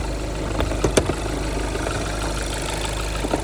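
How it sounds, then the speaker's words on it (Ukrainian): Skoda Octavia A7 2.0 TDI 110 kW diesel from 2016, idling with the hood open; a steady low clattering diesel rumble heard up close, with a couple of brief clicks or taps near the start. "Ось трудиться наш двигунчик."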